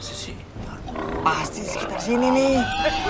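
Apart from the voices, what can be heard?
pig sound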